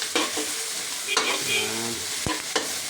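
Garlic, onion and ginger sizzle in a hot pan with a steady frying hiss, broken by a few sharp scrapes and clinks of a spatula stirring against the metal, close and fairly loud, with no talking.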